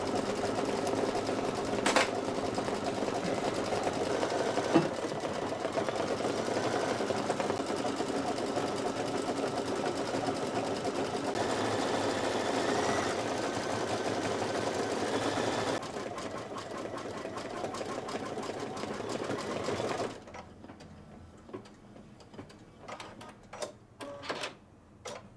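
A computerized embroidery machine stitches a quilt block with a steady, close mechanical whirr and rapid needle rhythm for about twenty seconds, then shifts into sparse clicks and ticks as it winds down.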